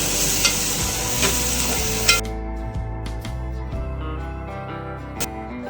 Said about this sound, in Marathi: हे सगळं आपण फोडणीला मारून घेऊ आणि शिजवून देऊया.